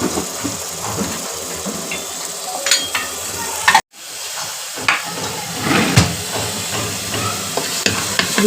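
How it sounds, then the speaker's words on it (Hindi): Chana dal with masala sizzles in a pan while it is stirred and roasted. A steady hiss runs under repeated scraping strokes, with a brief gap partway through. "इसको तब तक भूंजेंगे जब तक थोड़ा मसाला भून जाए।"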